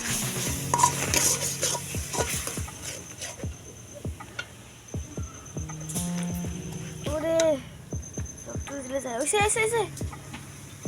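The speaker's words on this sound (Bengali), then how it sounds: "এগুলো দিয়ে আমি খুব ভালোভাবে মশলাটাকে কষিয়ে নেব" Spice masala and cashew nuts being sautéed in a pan for a chicken roast: a steady sizzle with scraping stirs and clinks of a spoon against the pan, while a voice briefly rises over the cooking.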